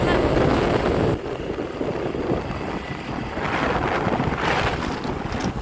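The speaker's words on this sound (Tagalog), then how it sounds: "lakas naman ang hangin." Strong wind sweeps across a bridge, rushing and buffeting the microphone in loud gusts that dip briefly and then swell again, with no clear speech.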